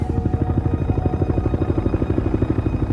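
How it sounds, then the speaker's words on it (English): A Navy helicopter flies over a crash site, its rotor beating in a steady, rapid, loud throb that carries on without a break. No voices are heard. "rushed to the crash site in a Navy helicopter"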